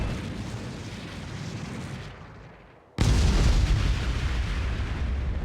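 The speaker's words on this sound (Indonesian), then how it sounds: "ketika sebuah tembakan sihir yang sangat besar mengenai tubuh naga tersebut" Rushing noise fades to near quiet, then a huge magic blast hits a dragon, erupting and sustaining as a loud roaring rumble.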